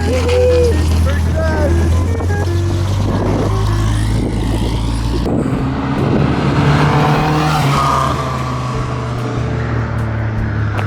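A Nissan 240SX with a freshly rebuilt KA24E engine roars loudly and steadily through a burnout, engine drone continuous with tire noise and voices shouting in the background.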